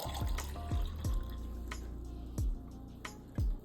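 Matcha tea latte is poured into a cup, a soft continuous liquid trickle broken by recurring bubbly glugs and drips.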